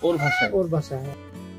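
A domestic goose gives a quick run of close, loud, nasal honks in a short burst, each call harsh and tonal, heard alone without talking.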